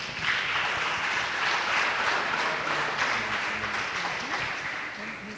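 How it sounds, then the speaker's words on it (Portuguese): A church congregation at an evening worship service applauds in a long, steady wave of clapping, with voices mixed in under the sound. "Vamos aplaudir o Senhor Jesus."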